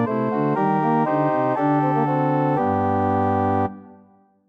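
A four-part Bach chorale harmonisation plays its final phrase as clear sustained chords moving step by step, ending on a held cadence chord that decays away, no talking.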